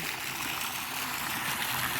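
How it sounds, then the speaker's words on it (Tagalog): Water gushes in a steady, broadband rush outdoors on a hot day, a continuous moderate flow heard without any talking. "Ino-open nila yung tubig."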